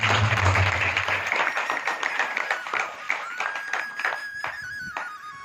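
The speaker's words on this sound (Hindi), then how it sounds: "इसके लिए एक बार जोरदार तालियां आपके।" An audience at a career guidance workshop run by the Jago organisation bursts into applause, loud at first and then thinning into scattered claps as it fades, with voices faintly underneath.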